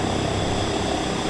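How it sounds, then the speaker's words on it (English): Helicopter in the game Teardown, a steady loud rotor and engine drone with a constant broadband roar and no breaks, close and filling the whole moment with no talk. "I actually spawned in a helicopter."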